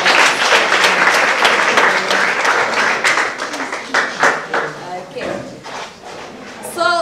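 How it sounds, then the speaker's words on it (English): A classroom full of people at a school in Kampala, Uganda claps for several seconds, the applause loud at first, then thinning out into scattered claps. "Can we give her a round of applause?"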